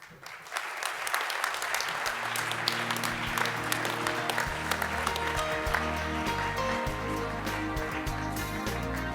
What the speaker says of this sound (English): Ladies and gentlemen, one more round of applause for Holiday Retirement.